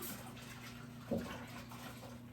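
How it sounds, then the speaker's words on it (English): Hands being rinsed under a running kitchen tap while making homemade biscuits, a steady, soft, faint stream of water with a brief splash near the middle. "let me rinse my hands just for a minute"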